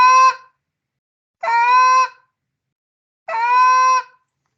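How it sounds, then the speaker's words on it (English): Canada goose giving a drawn-out moan call, three separate nasal, harmonically rich calls spaced about a second and a half apart, close, loud and clear against silence. "The next one would be a moan."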